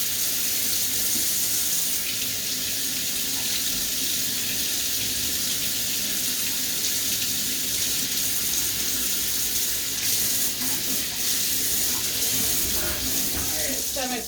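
Hot water runs from a tap into a bathtub being filled for washing clothes, a loud, continuous rushing splash that holds steady throughout.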